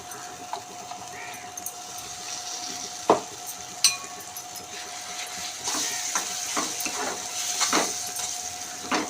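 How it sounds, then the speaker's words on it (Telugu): Tomato puree goes into a pan of fried onions, sizzling softly under the scrape and clink of a spoon stirring, with occasional louder knocks against the pan. "దీనిలో ప్యూరీ యాడ్ చేసేస్తాను."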